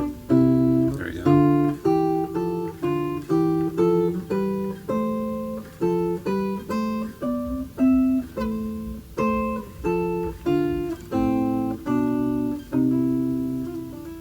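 Guitar picking a scale harmonized in tenths, two notes struck together on each step in a steady, evenly spaced sequence climbing and descending, clear and close with no voices.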